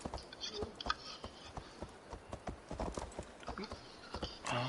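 Horse hooves clip-clop at a steady trot in the video game Assassin's Creed Valhalla, crisp repeated knocks close up over a faint game background.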